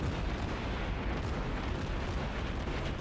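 Heavy battleship gunfire and shell impacts in a naval video game involving the Tier 3 battleship Kawachi and the South Carolina: a dense, rumbling wash of booms and blasts, loud and sustained.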